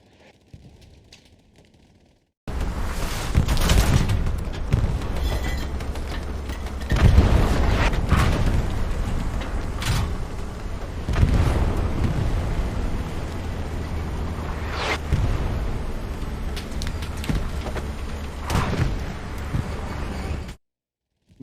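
A Panzer IV tank is taken out by a satchel charge and a rocket in the WWII shooter Hell Let Loose: heavy booming blasts and rumbling battle noise, loud and dense, running continuously for about eighteen seconds after a quiet start.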